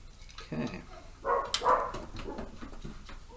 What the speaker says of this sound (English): Dogs barking upstairs.